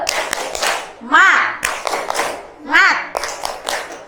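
Children at school doing a rhythmic group spirit clap, short bursts of clapping and taps mixed with their chanting voices, two sung rising calls standing out between the claps.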